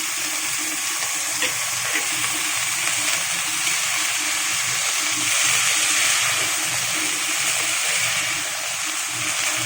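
Vegetable stems go into a hot frying pan with oil, setting off a loud, continuous hiss and sizzle close up. It holds steady, with slight swells and no talking.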